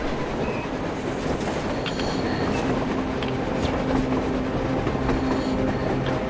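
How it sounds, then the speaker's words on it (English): A train rolls across the surface in the video game Metro Exodus, a continuous rumbling clatter of wheels on rails with faint squeals and clicks, sustained and fairly close throughout. "A train! A damn train on the surface!"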